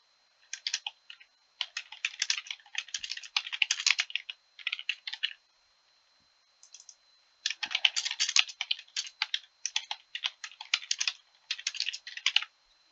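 Rapid, crisp typing on a computer keyboard, close and clear, arriving in dense bursts of keystrokes separated by short pauses.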